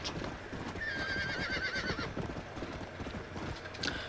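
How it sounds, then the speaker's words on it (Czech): Horse galloping in the Red Dead Redemption video game, a steady run of hoof clip-clops with a neigh partway through, fairly loud and continuous with no talking. "proč s tím koním běžíš takhle v těch pražcích"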